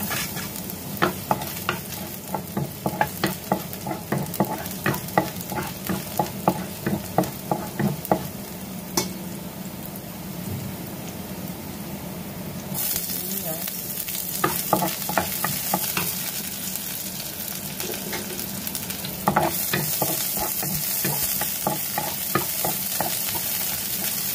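Garlic sautés in hot oil in a pan for a chicken liver, mushroom and vegetable dish, with a continuous close sizzle and frequent rhythmic scraping of a spatula as it is stirred.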